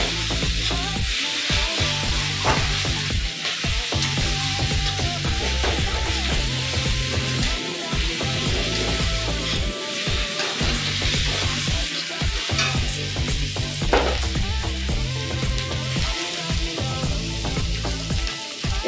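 Ginger paste frying in hot oil in a pan for a spicy mustard pomfret dish, a steady loud sizzle with repeated scraping stirs of a spatula throughout, no voices.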